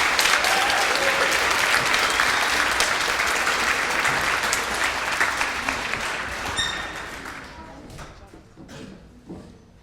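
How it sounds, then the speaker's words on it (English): Loud applause from an audience at a 2016 student union election results night, dense steady clapping that gradually thins and fades toward the end, with a few scattered last claps and some crowd noise. "So a huge round of applause to them as well."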